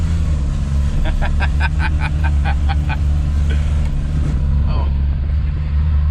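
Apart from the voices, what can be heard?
1996 Suzuki Carry with F6A engine driving in second gear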